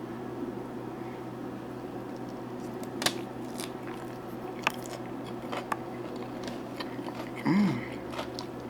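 Chewing a crunchy jerk chicken rice salad: faint, scattered bites and crunches in a quiet room, with a few sharper crisp snaps breaking through a low background hum.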